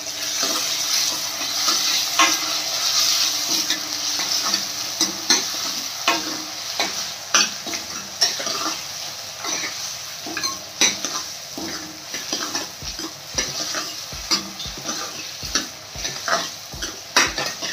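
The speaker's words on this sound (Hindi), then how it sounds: "ये आलू डाल के मिला लेते हैं" Potatoes for Rajasthani kadhi sizzle and fry in a pan while being stirred, a steady close hiss broken by repeated scraping and clinking strokes that grow sharper and more regular toward the end.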